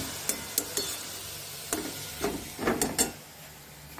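Carrot halwa cooking in ghee, with a spoon stirring and scraping through the sizzling pan in short, uneven strokes that grow busier near the end, all close up and without talk.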